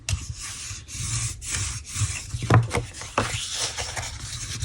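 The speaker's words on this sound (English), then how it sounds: "So we will go ahead and fold and burnish on all 4 sides of this one." Folded paper edges are rubbed and burnished by hand on a tissue box cover, producing close, soft scraping strokes in short repeated passes with brief pauses between them.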